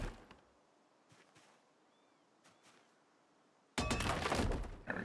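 A sledgehammer smashes through a wall in the video game Project Zomboid: after near silence with a few faint knocks, one loud, harsh crash of breaking material bursts in and sustains for about a second before cutting off.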